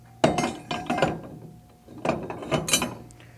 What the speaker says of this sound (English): Using the 61 SA tool and a torque wrench,